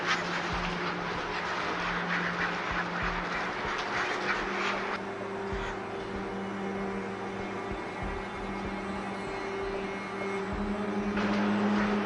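Young ducklings, about two weeks old, quack in a crowd at a foie gras farm, their calls continuous and overlapping over a steady mechanical hum from farm equipment.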